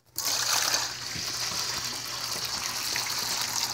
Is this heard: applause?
no